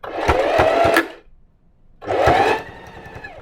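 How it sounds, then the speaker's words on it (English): A sewing machine stitches the cuffs of a hoodie in two short, loud bursts of rapid mechanical whirring, separated by a brief near-silent pause. "And now I'm going to stretch a little bit as I sew. And I'm going to sew all the way around here."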